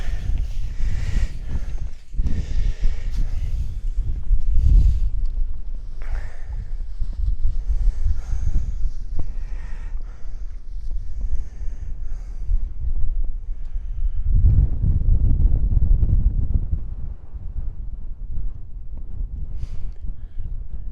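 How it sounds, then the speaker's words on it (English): Strong gusty wind on a mountain summit near Glencoe buffets the microphone with a deep, continuous roar that rises and falls, swelling heavily near the end, with no voices. "The wind has picked up on the tops now."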